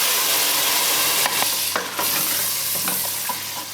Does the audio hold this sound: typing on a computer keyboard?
no